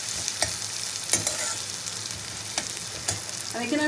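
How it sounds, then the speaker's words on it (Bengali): Onions frying well in a pan, a soft continuous sizzle broken by occasional clinks and stirring scrapes of a spoon, close and fairly quiet. "পেঁয়াজটাকে খুব ভালো করে ভেজে নেবো।"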